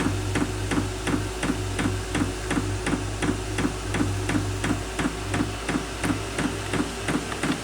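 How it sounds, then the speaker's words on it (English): A Vevor diesel heater's fuel pump ticks in a steady, fast, evenly spaced run of sharp clicks over a constant low hum from the running heater, with no one speaking. "But the pump clicks and it's super annoying."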